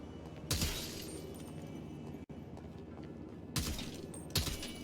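In the video game GTA 5, gun rounds strike a window with sharp shattering impacts: two loud hits early and late, separated by a stretch of quieter background sound.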